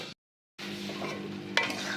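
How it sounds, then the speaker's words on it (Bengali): Mutton being stirred and sautéed with spices for mustard mutton curry, a brief close sizzle with a soft scrape and one sharp utensil clink, after a short silent gap at the start. "এবারে মটনটা দিয়ে দিলাম, দিয়ে ভালো করে মশলার সঙ্গে মিশিয়ে একটু কষিয়ে নিচ্ছি।"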